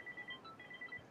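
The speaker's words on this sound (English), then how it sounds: "Sorry about the phone if you can hear that." A telephone chirps faintly in the background, a string of short, evenly spaced electronic beeps in quick repeating bursts.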